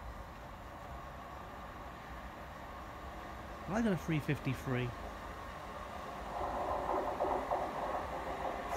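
A train arriving at Lichfield station gives a faint, steady rumble under platform ambience that swells slightly toward the end, while someone speaks briefly in the middle.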